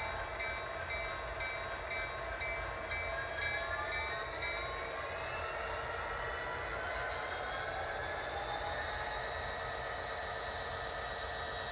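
A P5 horn plays from the sound system of a model train locomotive with a small speaker. Faint, rising horn tones sit over a steady, quiet rumble that runs the whole time, with no talking.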